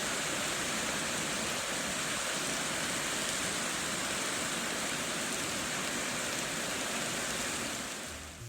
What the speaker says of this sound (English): raining like a monsoon and it's so loud on the roof of the garage.